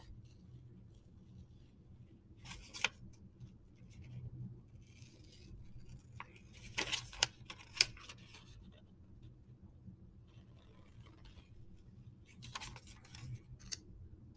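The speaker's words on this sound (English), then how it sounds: "we are going to cut these shapes out." Scissors cut paper shapes out in a quiet room, giving a few sparse bursts of crisp snipping and rustling separated by near silence, close and faint.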